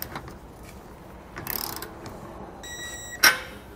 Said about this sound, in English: now I want to come back and torque everything down to the amount specified in our instructions